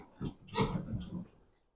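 A few short, low grunts from pigs, close by and moderately loud, with snuffling breaths between them.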